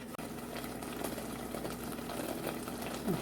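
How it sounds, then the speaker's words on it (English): Steady low bubbling and simmering of a sugary papaya mixture in a pot, a continuous close hiss with faint pops. "Boiling, boiling."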